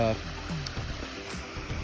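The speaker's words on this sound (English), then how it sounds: "gives you a little view of the waterfall" A small backyard waterfall spills into a turtle pond, its steady splashing wash running under a voice.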